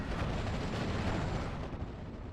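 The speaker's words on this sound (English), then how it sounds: "Mortar 3 will get a second shot off" Mortar fire in a WWII strategy video game: a dense, rumbling blast that rolls on for over a second before tailing off, with no voices.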